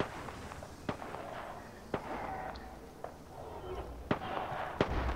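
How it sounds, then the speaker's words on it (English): Scattered gunshots crack from several directions in an Apex Legends battle-royale match, sharp isolated reports about once a second over a low game-ambience bed. "I hear gunfire all around"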